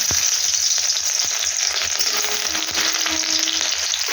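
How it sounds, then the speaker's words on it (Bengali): Sliced onion and chopped garlic frying in hot oil, a loud continuous close sizzle with occasional faint stirring clicks and a low background hum. "সবার প্রথমে ছাড়বো এখানে এই পেঁয়াজ আর কুচানো রসুন।"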